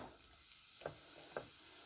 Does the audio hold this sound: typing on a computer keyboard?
no